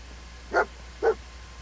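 Two short, clear barks from Dogmeat, the dog companion in Fallout 4, spaced about half a second apart against a quiet low background hum.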